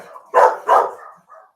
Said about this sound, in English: Dog in the hallway.